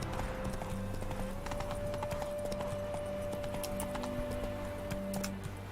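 Roach the horse gallops in The Witcher 3: Hearts of Stone, hooves clip-clopping in a quick steady rhythm, close and clear over a game ambience with a sustained tone and brief whinny-like sounds.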